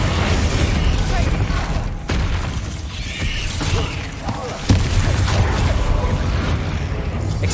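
Spell blasts from the Bombarda explosion charm in Hogwarts Legacy, a dense, loud wash of booming impacts and crackling debris running throughout, with a sharper burst near the end and speech mixed in.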